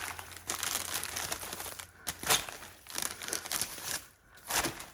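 Raffia being wrapped around the binding point of a flower bouquet, producing close, dry crinkling and rustling in uneven bursts with short quiet gaps, fairly faint overall.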